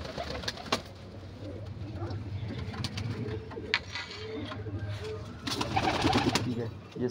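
Young pigeons coo repeatedly in a loft, soft low rhythmic calls close by, mixed with wing flutters and small rustles throughout.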